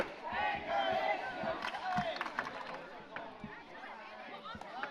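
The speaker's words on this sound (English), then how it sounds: "And that cheer had to be cut short" Crowd at an indoor volleyball game between staff and scoutmasters yells and cheers in a burst that quickly fades, leaving scattered shouts, footsteps and chatter in a reverberant gym.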